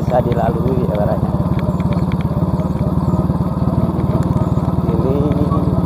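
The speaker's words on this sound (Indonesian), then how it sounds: "terlalu bising dari suara motor saya" A motorcycle engine runs loud and steady while riding through a bamboo plantation on a rural road, its rough continuous drone filling the whole stretch with no gaps.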